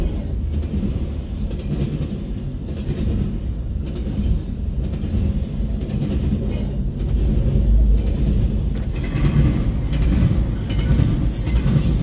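CN freight train Q198 rolling past at Ladysmith, a loud continuous rumble of cars and wheels with steady clickety-clack that swells toward the end, no talking.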